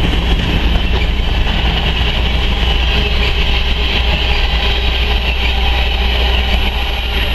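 Freight train hauled by GE Evolution and Dash 9 locomotives passing close and loud, a dense continuous rumble and roar of engines and rolling cars with no pauses.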